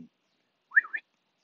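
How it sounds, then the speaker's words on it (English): A single bird gives a short, odd whistled call of two quick chirping notes, clear and close against near silence. "It's that one bird that makes that weird, annoying"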